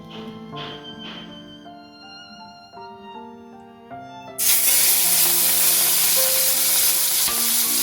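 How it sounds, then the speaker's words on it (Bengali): Prawns coated in salt, turmeric and dried chilli powder hit hot oil with a sudden loud, steady sizzle, following a quieter stretch of background music. "নুন, হলুদ আর শুকনো লঙ্কার গুঁড়ো দিয়ে চিংড়ি মাছটা মাখিয়ে ভেজে নিই।"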